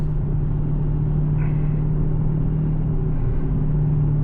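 Steady low engine rumble from a stock 2022 Dodge Challenger Scat Pack cruising in 4th gear on a rainy road, heard from inside the cabin as a constant droning hum with road noise.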